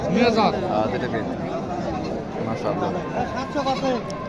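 A goat bleats several times over a busy crowd of chattering voices at a goat market in Kaptan Bazar, Dhaka, close and fairly loud.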